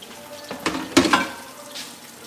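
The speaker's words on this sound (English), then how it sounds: "You want to fry up the vegetables." Vegetables fry in a hot pan with a soft sizzle, broken by a few sharp scraping clatters from stirring near the middle, close and moderately quiet with no talking.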